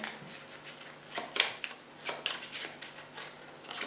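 A deck of playing cards is shuffled in a solo Doomtown Reloaded card game, giving a series of crisp riffling and flicking bursts at close range with no talk.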